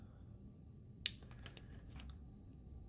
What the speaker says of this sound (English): so we're just going to cut them off